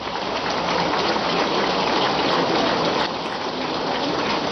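Heavy rain pours down in a dense, loud, unbroken roar at an outdoor gathering, with no talking over it.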